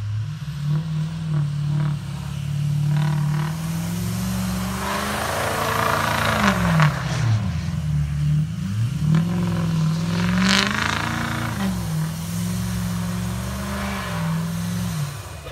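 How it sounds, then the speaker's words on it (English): A truck drifts on snow, its engine revving up and down in repeated swells with rising and falling pitch, close and fairly loud, with faint clatter between revs. "Starting off with me drifting my truck"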